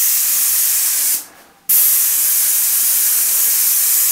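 A sprayer mists water onto a popcorn ceiling in a loud, steady close hiss, with a brief half-second break before the spraying resumes.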